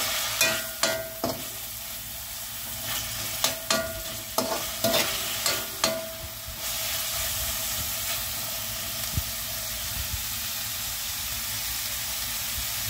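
Food frying in cooking oil gets stirred with a series of sharp utensil knocks and scrapes over a steady sizzle, the clatter easing off as a constant frying hiss carries on alone.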